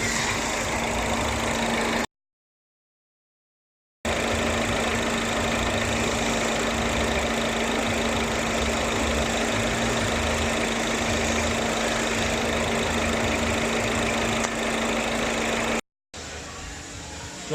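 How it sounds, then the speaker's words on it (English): A Mini Cooper engine idling while warming up, a steady close mechanical drone with an even low hum that runs throughout, broken by two short silent gaps. "Now we're waiting for the engine to warm up and we'll do our first vibration test."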